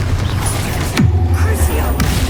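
Spell blasts from the Confringo fire curse in Hogwarts Legacy, a loud booming impact with a falling whoosh midway, over a dense rumbling game soundscape.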